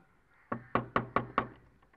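Five sharp knocks on a door in quick succession, loud and close, with a short pause before the first and faint trailing taps after the last.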